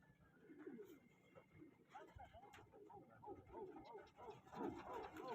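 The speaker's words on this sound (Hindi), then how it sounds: "कबूतर माशाल्लाह वाला उड़ रहे हैं" Several pigeons coo in soft repeated bursts nearby, joined by faint wing flutters as they take off, under steady talking from people close by.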